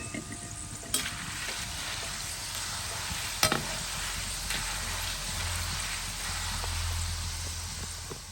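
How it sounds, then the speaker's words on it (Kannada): Jackfruit chips sizzle steadily in hot oil in a village kitchen, a close, continuous frying hiss with a few sharp stirring clicks and a low rumble underneath. "ಹಲಸಿನ ಸೊಳೆನ ಕಟ್ ಮಾಡಿಬಿಟ್ಟು ಎಣ್ಣೆಗೆ ಹಾಕ್ಕೊಂಡಿದ್ದೀವಲ್ಲ ಚಿಪ್ಸ್ ಮಾಡೋದಕ್ಕೆ"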